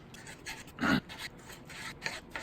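Raw chicken thighs are sliced into bite-sized pieces with a knife, giving soft, close rasping cuts, with one louder stroke among fainter ones on a quiet background.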